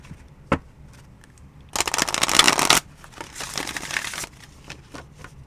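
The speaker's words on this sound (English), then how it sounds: "Let's do another shuffle here." A deck of cards is riffle-shuffled in one quick, crisp burst lasting about a second, followed by softer handling and light tapping.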